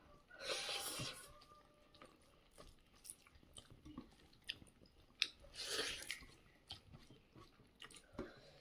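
Close, quiet chewing of a home-cooked meal, soft wet mouth sounds and occasional bites and crunches in an uneven rhythm, with no talk.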